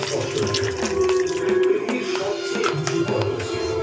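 Lukewarm water poured into a pan of crab curry, over potatoes fried with spices, making a steady close splashing rush that runs unbroken for a few seconds with no voices.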